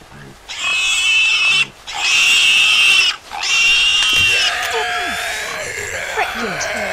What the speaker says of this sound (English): Why am I being followed by a pig?